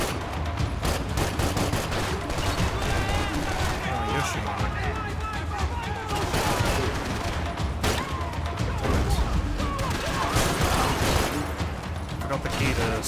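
Enemy gunfire in Max Payne 3 rattles continuously in dense bursts, close and loud, with someone talking over the shooting throughout.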